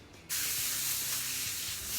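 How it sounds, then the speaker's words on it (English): A short, close hiss of spray olive oil is misted over baking sheets for damper. After a faint moment, one continuous spray burst starts and carries on steadily to the end. "I just put a bit of spray olive oil all over the sheets"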